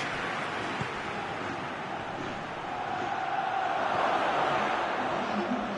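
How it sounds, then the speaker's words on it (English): A stadium crowd in the PES football video game roars as a broad, steady wash of noise that swells slightly toward the end, with no speech. "Crowd calling for him to shoot."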